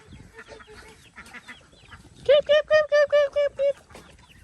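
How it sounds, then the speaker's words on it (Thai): Poultry on a farmyard, ducks and chickens together, with a run of about seven loud, evenly spaced honking calls close by, following indistinct background noise. "นี่ก็คือเป็ดเนาะ โอ้โห นี่ก็เป็ดกับไก่เนี่ย"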